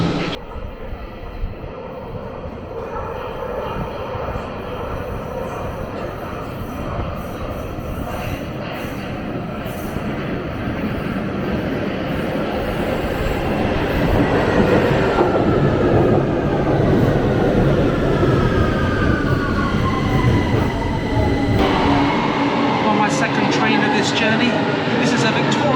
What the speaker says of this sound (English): This is a Victoria Line train northbound, which will take me to King's Cross